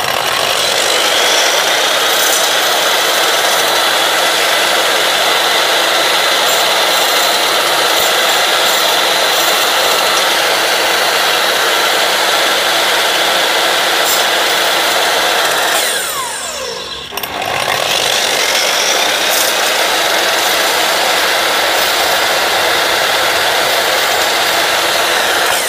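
A miter saw trims the corners off a curved piece of wood while the piece is held steady. It gives a loud, continuous whine that dips briefly partway through and then carries on, with no talking.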